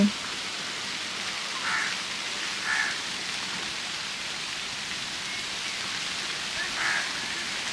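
Steady rain falls outdoors on a rainy morning in Bangladesh, a dense even hiss that fills the whole stretch, with a few faint bird calls rising above it now and then.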